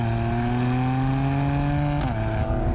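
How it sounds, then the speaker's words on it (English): Mercedes-AMG C 43 Coupe, 2019, engine droning steadily under acceleration, a sustained close harmonic tone that rises gradually and shifts pitch near the end, as if with a gear change, with no talking. "And then you really hear the engine"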